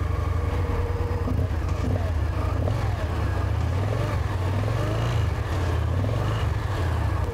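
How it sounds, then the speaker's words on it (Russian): A Victory Vision Tour motorcycle running on its stock exhaust gives a deep, continuous engine rumble with slow rises and falls in pitch as it is revved, loud and close, with a voice faintly under it. "слушаем классический, стандартный выхлоп Victory Vision Tour"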